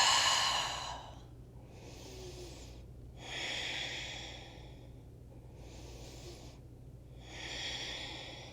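Heavy, close breaths during a steady strength-and-balance exercise class, with four or five long, airy exhales coming in a slow, even rhythm and short quiet gaps between them.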